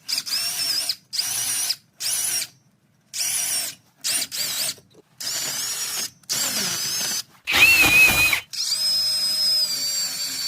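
A stud cleaner spun on a power drill to clean the front hub studs of a Ford Edge during a brake job: loud, close bursts of whirring, with short pauses between the bursts and a final longer run.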